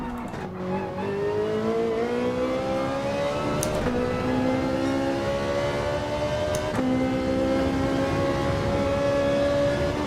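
A Ferrari 458 GR.3 race car in Gran Turismo 7 accelerates hard up a hill, its engine note climbing steadily through the gears with brief shift breaks, loud and continuous with no talk.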